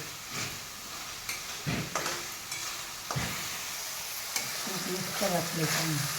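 Village-style masala paste fries and gets stirred in oil in a pan for a spicy masala vadi curry, giving a steady close sizzle broken by repeated scraping stirs, with someone talking in the background.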